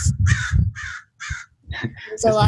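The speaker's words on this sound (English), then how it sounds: "We got birds and everything." A crow caws repeatedly outdoors during a live music show, harsh calls in a rough rhythm with short gaps between them, fairly close and loud, with voices talking at the end.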